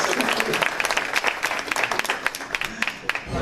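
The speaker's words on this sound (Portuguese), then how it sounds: "Pode bater palmas." Applause and clapping from an audience at a show, dense and steady with sharp individual claps throughout, while voices murmur underneath.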